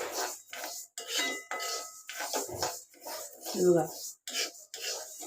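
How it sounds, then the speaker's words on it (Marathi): Moong dal dry-roasts and is stirred in a pan, giving repeated rasping, scraping strokes with short gaps between them, close and fairly loud, while someone speaks briefly. "डाळ कशी भाजते बघा"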